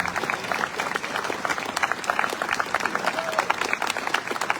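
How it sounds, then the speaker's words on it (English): An audience at a Memorial Day ceremony claps steadily with dense, rapid individual claps, moderately close and sustained without a break; some voices mingle faintly underneath. "just keep clapping"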